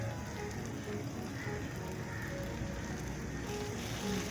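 Liver (kaleji) sizzles steadily on a hot tawa griddle, a constant crackling hiss of frying with no pause, heard close and alone.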